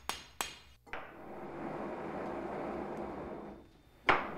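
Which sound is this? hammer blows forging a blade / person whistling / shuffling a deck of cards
hammer blows forging a blade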